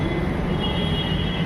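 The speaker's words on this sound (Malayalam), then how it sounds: "അപ്പുറത്തെ പ്ലാറ്റ്ഫോമിൽ ഒരു മെട്രോ വരും ഗൈസ്." A metro train pulls in at the opposite platform of a station, a steady loud rumbling roar with faint high squeal.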